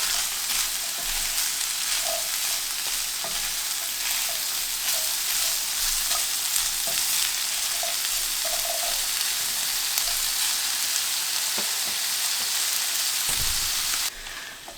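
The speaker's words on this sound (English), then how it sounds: "Now I'm going to add in the asparagus. And we'll let that cook for probably another 3 or 4 minutes." Asparagus, ham and onions sizzle steadily in a hot pan, a close, continuous frying hiss with occasional stirring clinks, then quieting abruptly near the end.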